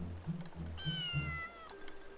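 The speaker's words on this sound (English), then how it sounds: "The cat!" A cat meows in Breath of Fire IV, a short run of soft, low mews followed by one higher drawn-out meow, close and clear with no talking.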